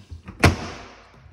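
An accordion-style door on a corner cabinet shelf shuts with a single sharp, close thud, followed by a short fading rattle.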